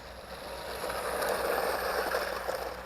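A Keleidi F20 4WD RC car drives on dirt, giving a steady whirring motor whine with gritty crunching from the tires that swells slightly mid-run.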